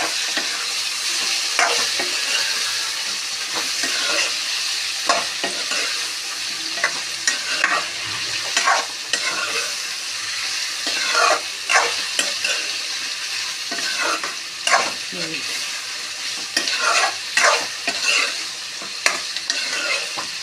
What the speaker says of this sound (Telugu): ఇదిగో కొంచెం మిరియాల పొడి, ఇప్పుడు బాగా కలుపుకోవాలి.